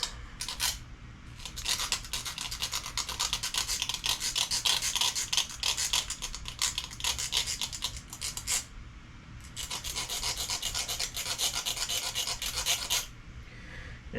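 A buzzbait fishing lure's metal wire arm being roughed up with an abrasive tool, heard as close, steady raspy scraping strokes in two long bursts separated by a short pause.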